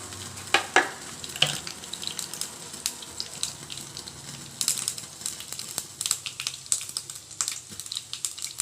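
Mustard seeds and urad dal sizzle and pop in hot oil, sharp crackles scattered irregularly over a steady frying hiss, close by with no talking.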